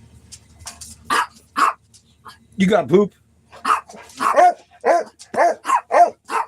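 Dogs bark and yip in short, scattered bursts close by while people talk over them.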